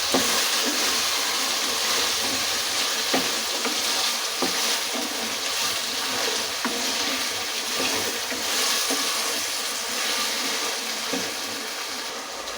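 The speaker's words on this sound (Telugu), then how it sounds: "చూడండి, వేగుతుంది కదా" Dried shrimp with cucumber and potato pieces fry in a pan, giving a continuous hissing sizzle with occasional scraping stirs, close and steady throughout.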